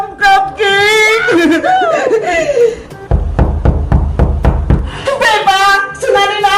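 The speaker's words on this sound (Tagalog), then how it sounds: "Kumakatok!" Knocking on a door, a rapid series of about eight sharp raps, loud and close, set between stretches of excited talk and laughter before and after.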